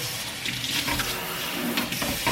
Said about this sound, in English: fill the sink with some soapy water